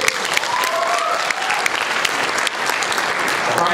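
A studio audience at a high school quiz show semifinal applauds the contestants being introduced, producing steady, dense clapping that fills the room without a break.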